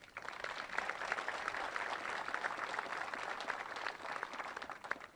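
A crowd applauds graduating cadets at a regimental camp graduation ceremony, sustained clapping from many hands at moderate distance, steady and fairly faint throughout.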